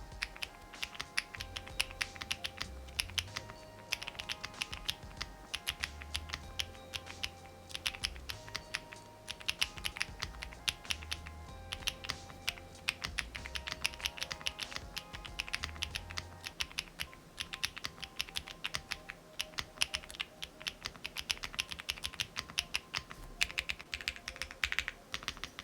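Rapid, continuous typing on a Bridge 75 mechanical keyboard, crisp clacky keystrokes in a dense, fast stream with occasional heavier thocks from larger keys, close and alone without any talk.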